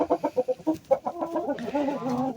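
Village hens cluck close by in a rural Turkish farmyard, with a quick run of short rhythmic clucks followed by a drawn-out, wavering cackle, clear and without talk.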